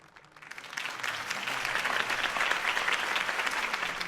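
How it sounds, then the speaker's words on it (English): Crowd applause after Harvey Dent's campaign speech in the Batman Telltale video game, swelling quickly from quiet into dense, sustained clapping that holds steady. "could have heard that applause"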